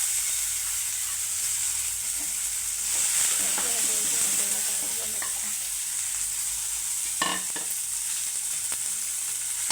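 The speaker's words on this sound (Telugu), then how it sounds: "అదే ప్యాన్లో అయితే దొండకాయలు వేయించుకుందాం." Ivy gourds fry in a pan still slick with oil from spiced masala, a steady close hiss of sizzling with occasional stirring scrapes and clinks, no voices.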